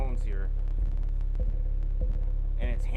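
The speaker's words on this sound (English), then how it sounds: "Tones here, and it's hammering them too." Bass tones from an Audiopipe TXX-BDC4-10 quad stack of 10-inch car subwoofers on Sundown amplifiers, a loud sustained low throb with pulsing hits and brief voices over it.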